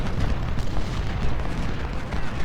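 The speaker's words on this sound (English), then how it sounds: "Come on, cannons, fire!" Cannon fire in a Civil War battle from the Ultimate General: Civil War strategy game, a rolling, continuous rumble of booming artillery blasts layered over one another, heavy in the low end and steady throughout.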